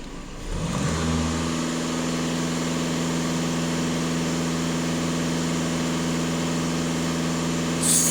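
A VW Passat B8 with a 2.0 TDI EA288 diesel engine is revved at full throttle, rising from idle into a steady, loud, sustained high-rpm drone that holds for several seconds.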